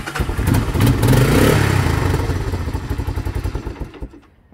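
A Honda Fourtrax 250 four-wheeler engine runs close by, a loud, rough, throbbing idle with a brief rev early on, settling into a pulsing chug before cutting off at the end.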